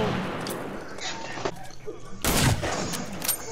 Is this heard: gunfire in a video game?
yes